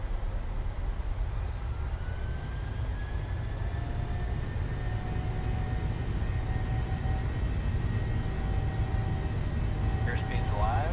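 A PMDG 737-700 airliner rolls down the runway for takeoff in Microsoft Flight Simulator, its engines producing a steady, loud low roar with rising whine tones that hold throughout, without voices.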